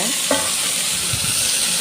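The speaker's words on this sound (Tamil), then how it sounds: "இது இது எல்லாத்தையும் எண்ணெயில் போட்டு வதக்கி எடுக்கணுங்க" Chutney ingredients sautéed in hot oil in a pan, a close, continuous sizzle with brief scraping stirs, steady and loud with no talking.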